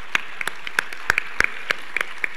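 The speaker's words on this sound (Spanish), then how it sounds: "Un fuerte aplauso, por favor." Scattered, sparse clapping from a small audience at a Spanish film writers' awards gala, a dozen or so distinct claps spread unevenly, fairly close and crisp, with no voices.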